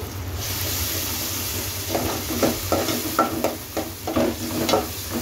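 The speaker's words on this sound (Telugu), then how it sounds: "అల్లం వెల్లుల్లి పేస్ట్ వేసుకొని ఒకసారి మొత్తంగా కలిసేలా కలిపేస్తాం" Ginger garlic paste is stirred into softened tomatoes in a pan: a soft background sizzle with a series of irregular spoon scrapes and clatters growing busier toward the end, close and moderately loud.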